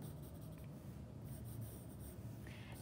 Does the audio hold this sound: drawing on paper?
yes